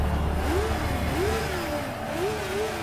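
Racing motorcycles in a film rev hard at the start of a race, their engines climbing in repeated rising whines over a loud, steady mechanical roar, close and continuous.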